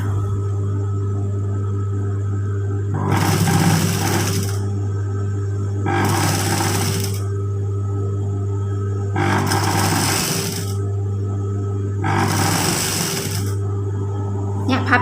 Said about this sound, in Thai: เย็บชิดริมชิดริม เนี่ยเราก็จะได้ชายเสื้อเชิ้ตที่พับง่าย ๆเลยค่ะ